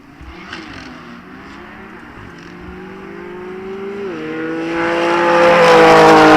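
A box-shaped Toyota Corolla leaves a drag strip start line. Its engine note climbs through the gears and grows louder and harsher as it pulls away, with no talking over it.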